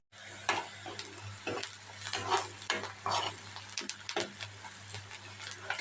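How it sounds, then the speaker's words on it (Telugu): A low sizzle of eggs frying in a pan for an Andhra-style egg garlic masala runs throughout, punctuated by frequent close scraping and tapping strokes of a spatula as they are stirred, with no voices. "చక్క కోడిగుడ్లు కూడా చక్కగా వేపేసుకున్నాం చూసారా"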